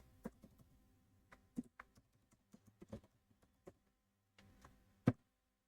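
Sparse keystrokes tapped on a computer keyboard while entering a line of JavaScript code, faint and close, irregular single clicks with pauses and one sharper hit near the end, no voices.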